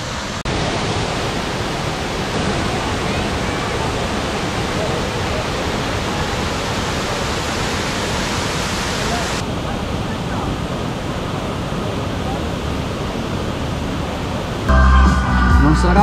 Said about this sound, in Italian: andare a dedicare una giornata alle cascate di Kravice.